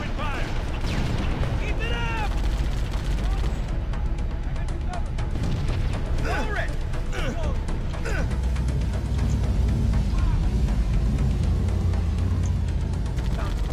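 Gunfire and explosive booms from the Halo game Assault on the Control Room, played on Heroic as a Marine, pound loudly and continuously, with chirping weapon effects and a player talking over the din.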